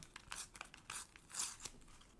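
A Panini football sticker pack is torn open by hand, giving a quick run of crinkly foil tearing and rustling bursts close up, with no talking over it.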